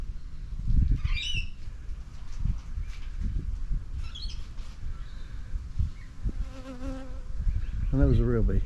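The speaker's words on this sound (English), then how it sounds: "I believe they're Australian bush bees" Tiny harmless Australian bush bees in their thousands make a steady close buzzing drone, with several brighter squawk-like chirps rising above the hum.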